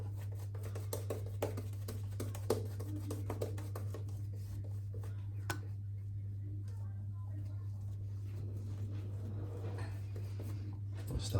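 A Wolf Whiskers custom shaving brush paints menthol shaving lather onto a face in quiet, soft, brushy strokes and light taps, over a steady low electrical hum.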